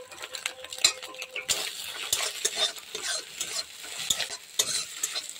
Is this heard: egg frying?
yes